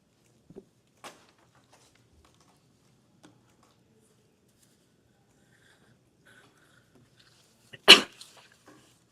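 A single loud, close sneeze bursts out in a hushed legal deposition room after long near-silence broken only by a few faint clicks.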